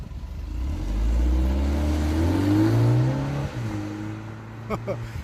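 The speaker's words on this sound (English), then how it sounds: "I'll let Lauren take off. Are you in sport mode?" A 2021 BMW 330i in sport mode pulls away under acceleration, its engine note rising and sweeping upward through the gears before easing off, with a brief voice near the end.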